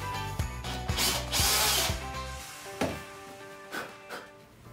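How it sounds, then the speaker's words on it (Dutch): A hand or power drill bores 3 to 8 mm holes into a block of wood, giving a whirring, ratcheting mechanical grind with repeated knocks, fading toward the end. "Een boor. Daar gaatjes in van 3 tot 8 mm."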